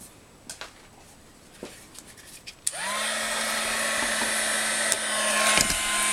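After a few light taps and handling clicks, a heat tool blows on embossing powder for a gift bag, its steady loud whirring blast switching on and running continuously to the end, up close.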